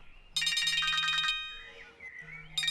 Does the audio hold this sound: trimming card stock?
no